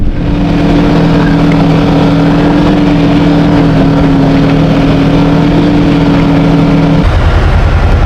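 Vehicle engine running steadily while moving snow, a loud constant drone with a sustained hum that shifts down near the end, no talk.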